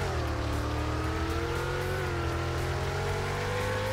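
A car engine revs steadily in the Roblox game Taxi Boss, a continuous loud motor drone with a rising and slightly wavering pitch and a rough low rumble throughout.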